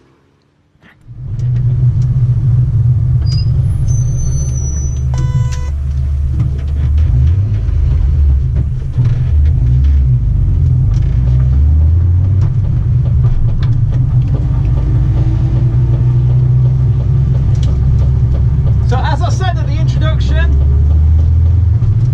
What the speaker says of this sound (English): let's get into the car and hit the track